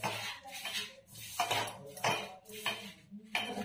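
Ingredients being mixed with jaggery in a bowl, with repeated close scraping and clinking of a spoon against the dish in uneven strokes, and no talk.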